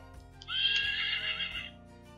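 A horse neigh sound effect from a children's farm sound book, triggered by touching the horse's mane: one loud, clear whinny lasting over a second that wavers and trails off, with no talking over it.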